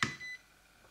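A Uni-T UT61E auto-ranging multimeter gives a single short, quiet electronic beep during a continuity test, a brief high tone that fades quickly in a quiet room.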